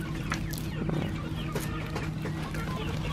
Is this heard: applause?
no